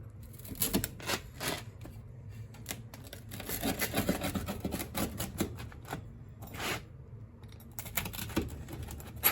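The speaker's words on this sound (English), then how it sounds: "We'll cut it into 4 pieces." Homemade pizza being cut into four pieces, with repeated crisp scraping and crunching strokes through crust that come close and fairly loud in uneven bursts, with no talk.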